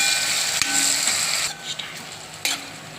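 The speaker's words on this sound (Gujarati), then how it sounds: "તો આપણે ટામેટા એમાં મિક્સ કરી લઈએ." Tomatoes stirred into fried onions in a pan while making Gujarati batata poha, with a spoon scraping and rubbing against the pan in repeated strokes and a few sharp knocks, close and clear without talk.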